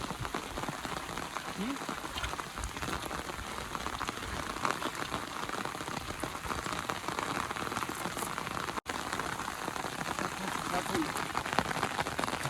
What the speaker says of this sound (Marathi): पाऊस परत वाढलाय बघा